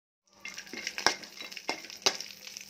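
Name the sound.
dry fruits frying in melted ghee in a kadai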